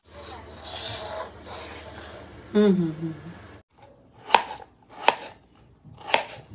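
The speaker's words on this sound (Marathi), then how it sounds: "आज एवढ्या भाज्या का चिरतेस ग तू?" Vegetables chopped with a knife on a board in a home kitchen, starting as a fast soft rubbing patter, then three sharp separate chops after a pause, with a voice talking during the first part.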